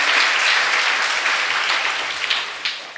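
Children in a sermon audience clapping together, a dense steady burst of applause that carries evenly through the whole stretch and thins slightly toward the end, with no talking over it.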